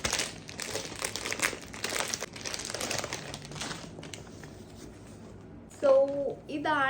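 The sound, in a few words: unboxing a bag, crinkling plastic packaging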